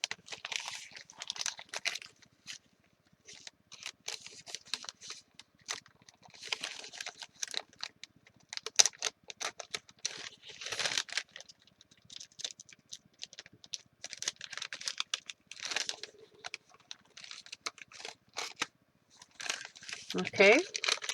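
Reindeer-print wrapping paper is crinkled and torn off a piece of mail in quick, close, uneven bursts of rustling, with brief pauses between them.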